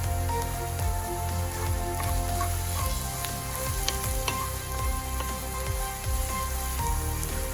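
Onions sautéing in hot oil for a fish curry give a steady, close, dense sizzle with occasional stirring scrapes, loud and continuous with no talk.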